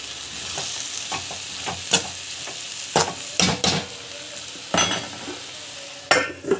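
Chutney ingredients with tamarind sautéing in a pan, a continuous sizzle broken by repeated scraping stirs and spatula knocks at an irregular pace, close and fairly loud, with no voices.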